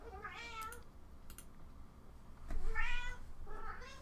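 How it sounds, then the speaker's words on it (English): A loud house cat meows twice, each call drawn out and clear, against a steady low background hum in an indoor room. "I have a very loud cat."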